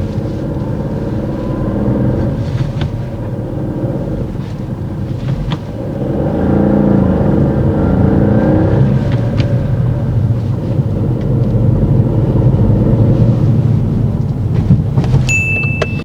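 A car engine pulling away and building speed during a driving test, a steady low rumble that rises in strength partway through, heard from inside the vehicle with a small chime near the end.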